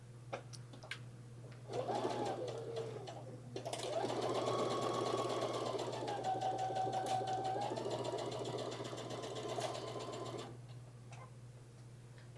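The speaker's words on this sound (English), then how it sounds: "I like to stitch on the sewing machine first also." A sewing machine stitches tunic fabric steadily for several seconds, its needle clattering in a fast mechanical rhythm, starting and stopping with brief pauses, close by.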